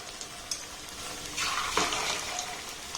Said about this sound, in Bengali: একটু হালকা লালি ভাব করে ভাজতে হবে